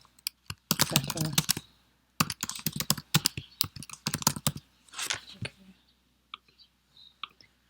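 Close, quick bursts of typing on a computer keyboard, with rapid clicks in several runs separated by short pauses, plus scattered key taps at the end.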